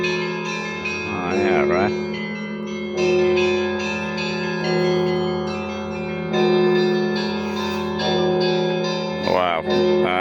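Church bells ring inside the Kremlin in Moscow, rich sustained tones layered and overlapping, swelling in repeated strikes over about ten seconds while a person briefly speaks nearby.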